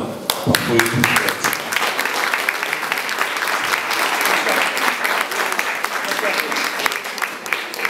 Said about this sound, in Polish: Brawa dla naszych artystów